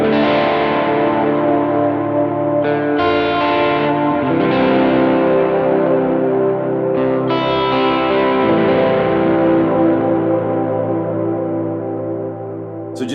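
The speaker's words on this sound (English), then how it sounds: "a huge swell tone from my Kemper amp and then the middle position on this guitar" Sustained electric guitar chords from a Filter'Tron pickup, middle position, through a Kemper amp swell in and ring out with heavy reverb and delay, each new chord blooming over the previous tail, played alone.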